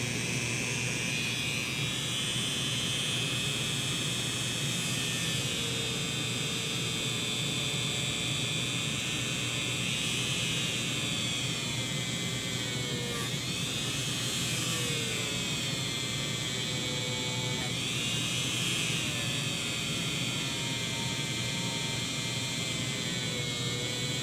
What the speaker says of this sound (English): polishing away with this Dremel foam roller fella.